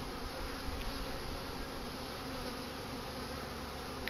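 Honeybees buzz in a dense, continuous hum at an opened hive during a late-winter apiary check, the steady drone filling the whole moment without any voices.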